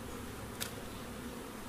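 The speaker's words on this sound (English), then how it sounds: "I can hear by the noise of them that they are grumpy, so we know that they're queenless" Honeybees in a queenless hive give a steady, close, even buzzing drone with no talk and one brief faint tick partway through.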